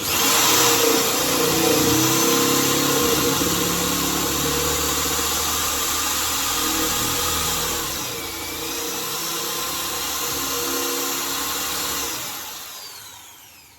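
A power drill whines continuously as it bores into plywood, the motor's pitch dipping briefly under load before tailing off at the end.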